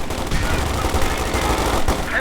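Sustained machine gun fire in the WWII strategy game Company of Heroes 2 (Ardennes Assault), a dense, continuous rattle of rapid bursts with overlapping battlefield gunfire, loud and close throughout.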